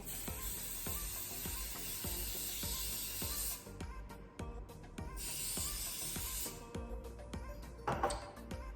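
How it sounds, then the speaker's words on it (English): Cooking spray is lightly sprayed onto a muffin tray in a home kitchen, two steady hissing bursts, a longer one then a shorter one, over rhythmic background music. "I'm going to lightly spray this tray."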